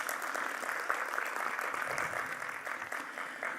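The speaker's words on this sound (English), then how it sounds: "with a big round of applause" An audience at an industry inauguration event gives warm, continuous applause, a dense crowd of clapping hands heard at moderate distance with no talk over it.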